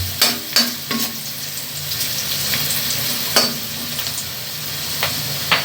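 Food sizzles steadily in a hot pan on a home stove while a utensil scrapes and stirs it in a few sharp, close clatters. The sizzle hisses continuously throughout, and there is no talk.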